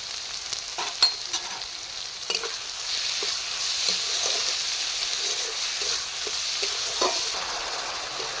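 Spice paste hits hot oil in a pan while frying vetki fish, giving a steady bright sizzle and hiss with scattered stirring clicks and scrapes throughout, no voices.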